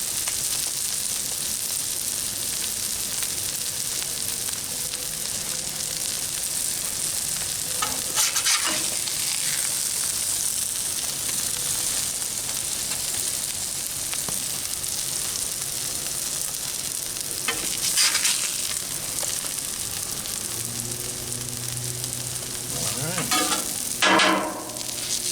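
Pepper bacon smash burgers sizzle steadily on a Blackstone griddle, a loud continuous frying hiss broken by a few brief scraping bursts of a spatula near the end.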